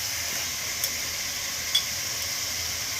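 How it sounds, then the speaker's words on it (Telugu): Chicken pieces coated in ginger garlic paste sizzle steadily in a pan for restaurant-style chicken biryani, a constant frying hiss with a couple of faint stirring clicks. "ఏది వేసినా అన్నీ కూడా ముక్కకు పట్టేటట్లుగా దగ్గరికి వేపుకోవాలి"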